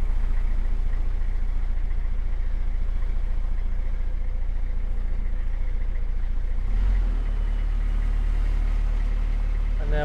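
A narrowboat engine chugs steadily while motoring through a swing bridge, a constant low throbbing drone that deepens and grows heavier partway through as the boat pushes on.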